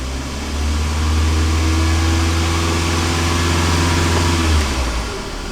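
2009 Toyota Camry Hybrid engine with a check-hybrid-system fault revving up into a steady, loud drone with a deep low hum that drops away near the end.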